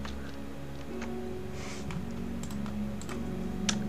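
Computer keyboard keys clicking in a quiet room as a CAPTCHA is typed, sparse irregular taps over a low steady hum, close and faint.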